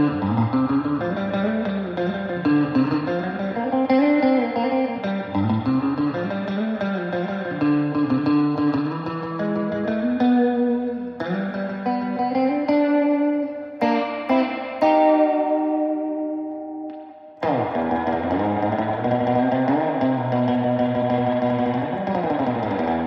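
An electric guitar is played through a Quilter head into a JBL D140F speaker, giving a steady run of effected, chorus-laden chords and bending notes, up close and alone, with a brief drop before the playing resumes.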